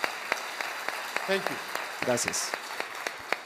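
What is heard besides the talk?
audience applause for Fernando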